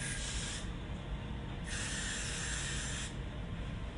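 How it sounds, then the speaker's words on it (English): Gotta Be Glue adhesive spray misted onto a forehead while installing a lace closure, two long steady hissing bursts of about a second and a half each with a pause between, close and fairly quiet. "you spray it on the forehead"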